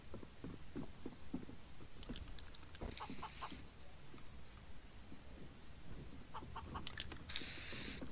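Chickens clucking in the shooter game CS:GO during a deathmatch, several short clucks scattered over steady rain-like background noise, with a couple of brief bright bursts standing out.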